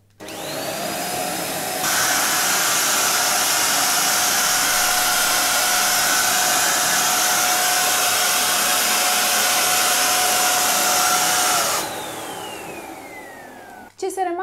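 A Bosch Athlet BCH6ZOO cordless stick vacuum cleaner runs over a flour-dusted floor with a loud, steady motor whine, spinning up at the start, holding constant and winding down near the end.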